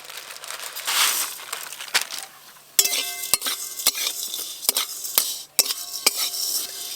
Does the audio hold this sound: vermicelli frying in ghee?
yes